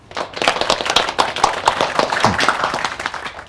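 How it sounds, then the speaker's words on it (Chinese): Office staff clapping at a team meeting for a newly arrived boss: a short burst of scattered hand claps from a small group, fairly close, building quickly and tapering after a few seconds. "大家给他鼓鼓掌"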